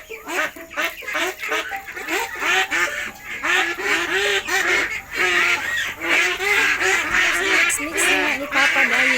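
Hungry ducks on a farm waiting for feed made from chopped banana trunk, a loud close flock quacking continuously and overlapping, with a voice faintly underneath.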